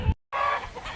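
Chickens in a rural farm chicken house give a brief, close burst of clucking that lasts only about a second.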